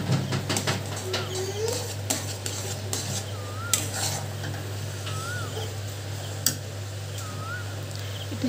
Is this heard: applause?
no